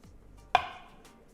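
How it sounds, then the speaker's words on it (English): A knife slicing through a peeled boiled egg lengthwise on a cutting board for Southern-style deviled eggs, a single soft, close tap of the blade against the board in otherwise quiet surroundings. "I'm gonna cut each egg in half long ways"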